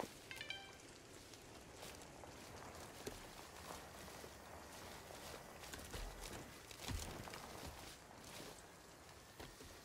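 Rain falls in the forest of the video game Sons of the Forest, a soft steady patter with scattered drips and light taps, faint and continuous with no talk.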